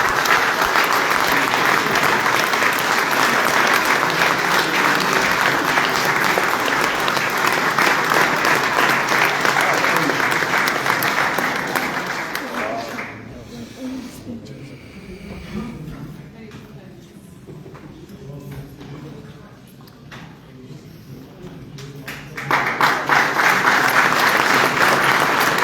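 An indoor audience applauds a manager honored for thirty years of dedication, loud sustained clapping that eases to a softer patter midway, then surges back to full strength.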